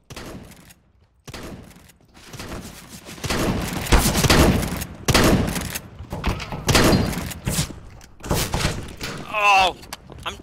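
Shotgun fire in the video game CS:GO, a series of heavy booming blasts in irregular bursts with clacking reload and door-like thuds between shots, someone talking over some of them.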